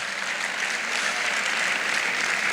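An audience breaks into brief, steady applause, many hands clapping at once, dense and fairly close, with no speech over it.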